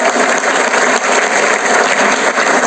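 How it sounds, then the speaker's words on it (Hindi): An audience at a seminar claps loudly and steadily, a dense, even wash of applause that carries on throughout without a break. "एक बार जोरदार तालियां"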